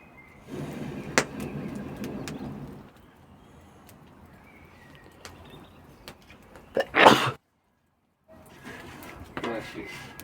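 A person sneezes once in a short, sharp burst amid quiet indoor room noise, followed by a brief silence and light background activity.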